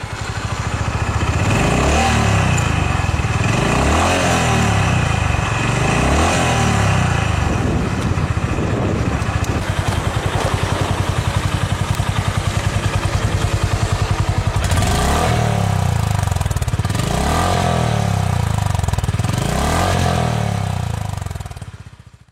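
Exhaust of a Honda GB350 retro motorcycle, loud and close, with a steady thumping idle broken by repeated throttle blips that rise and fall over about twenty seconds, no voices.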